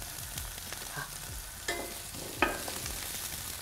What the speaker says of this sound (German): Brate ich kurz an, bis sie so ein bisschen glasigen Teint bekommen.